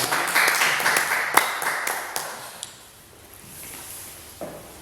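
A classroom group claps hands together in a brief round of applause that is lively at first, then thins out and fades to near quiet after a few seconds, with a few scattered claps at the end.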